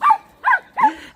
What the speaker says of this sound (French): Arrête d'aboyer. Il faut toujours qu'ils aboient.